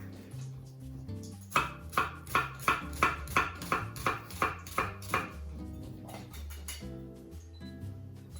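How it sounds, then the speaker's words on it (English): Onions and garlic being chopped on a board make about a dozen sharp, evenly spaced knife strikes. A quiet kitchen hum and a few soft clinks sit before and after the chopping. "Turn that down a little bit while we chop our onions up and our garlic."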